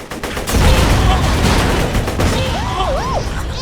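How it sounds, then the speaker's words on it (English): Video game explosions in Borderlands 2, a dense barrage of booms and gunfire-like blasts filling the whole stretch, loud and sustained, with synthetic whooshing effects near the end. "I saw those explosions from here."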